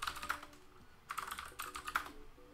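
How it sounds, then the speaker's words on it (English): Loud clicky computer keyboard typing in bursts of rapid keystrokes, close and clear with short pauses between runs, no talk. "Sorry for my obscenely loud keyboard."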